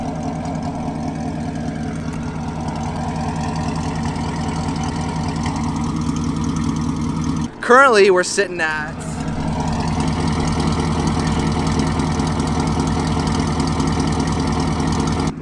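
A car engine idles with a steady, loud, deep rumble throughout; someone talks briefly in the middle and the idle continues.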